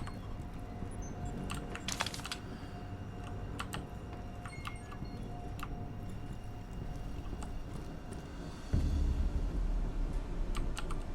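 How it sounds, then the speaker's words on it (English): Scattered clicks from a clacky computer keyboard tap out at an uneven typing rhythm, faint over a steady background hum, with a low rumble rising near the end. "Probably hearing my ridiculously clacky keyboard as well."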